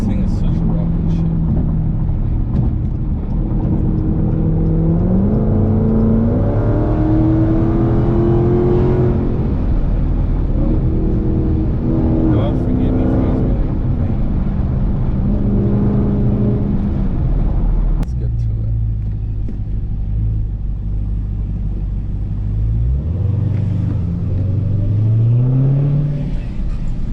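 A lowered Dodge Hellcat with a mid-muffler delete roars through repeated hard accelerations, its engine note climbing and shifting in stepped pitch sweeps, loud and close from inside the car, then settling into a deep idle-like drone before revving up again.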